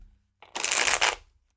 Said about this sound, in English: It does not shuffle easily and it bends.